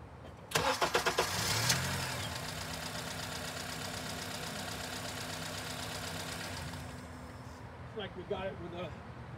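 A Honda engine with its intake cam disconnected cranks with a rapid rhythmic chug, then catches and runs at a steady idle close by, followed by a few clicks and knocks near the end.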